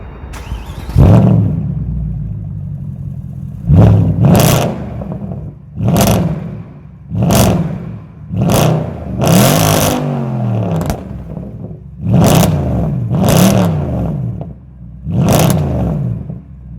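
A straight-piped Mercedes C63 AMG with its 6.2 V8 blipped in repeated sharp, loud revs, each bark dropping back to a lumpy, rumbling idle, recorded close with no talking.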